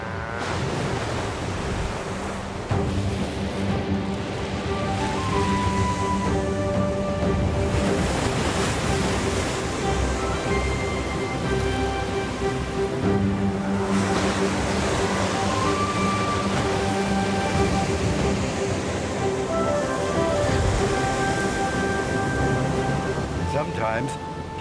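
Big ocean waves break continuously in steady, loud surf, with wind and a faint voice underneath; the setting is a Vancouver-area coast where wind and big waves draw surfers and Steller sea lions.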